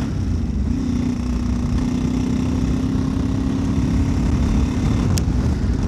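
An old carburettor motorcycle engine runs steadily after starting, a loud close rumbling idle with a steady hum and one brief sharp click near the end.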